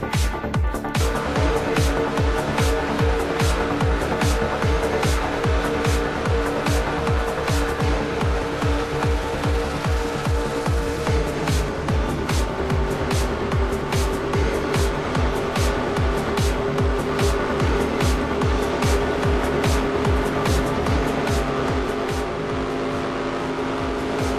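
Onboard engine of race car number 22 in a racing video game at Talladega roars loud and sustained, with rapid rhythmic pulses and steady pitch shifts as it laps, and no talk.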